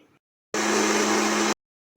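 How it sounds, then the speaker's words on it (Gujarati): A mixer grinder blends green sandwich chutney made with a little water, giving one loud, steady, close whirring burst of about a second between moments of silence. "હવે આપણે મિક્સરમાં પીસી કાઢવાનું છે તેને"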